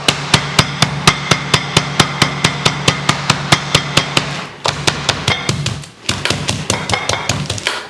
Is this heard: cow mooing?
no